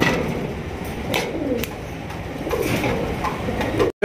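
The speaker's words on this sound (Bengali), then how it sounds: "এটা কবুতর ভাই, রেসার কবুতর।" Racing pigeons coo softly, with low warbling calls rising and falling against a steady background hum.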